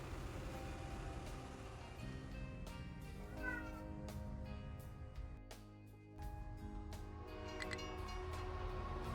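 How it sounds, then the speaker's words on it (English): An indoor pet cat lets out several plaintive meows, scattered and fairly faint, over a steady layered background of game music and machine hum. "If you hear a bunch of meowing"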